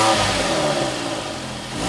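A Porsche 911 engine revs up close by, a loud rising howl that dips slightly and swells again, with no voices.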